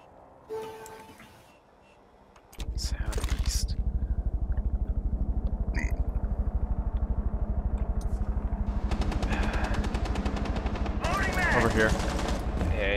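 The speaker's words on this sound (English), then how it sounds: "Yeah, he's shooting over here." Sustained automatic gunfire in Rainbow Six Siege, a dense rapid rattle that begins after a short lull and runs steadily to the end, with occasional sharper bursts layered on top.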